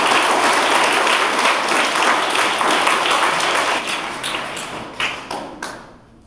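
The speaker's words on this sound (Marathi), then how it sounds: "मग तुम्ही स्वतःसाठी इथं टाळ्या वाजवल्या पाहिजे" An audience bursts into loud, dense applause at a motivational talk, sustained for several seconds before thinning into scattered individual claps and fading out.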